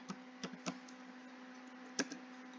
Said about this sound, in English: Now I type in ipconfig